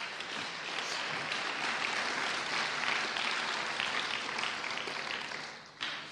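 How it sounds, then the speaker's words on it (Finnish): A church congregation applauds at a service, the dense clapping steady and loud throughout, easing slightly near the end before a brief swell. "Let's give the Lord a round of applause."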